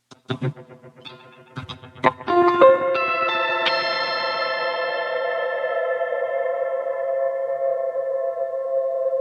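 Electric guitar played through an Echo Boy Jr delay plugin set to 16th notes with high feedback, a few plucked notes blooming into a dense, smeared, sustained echo tail that rings on steadily.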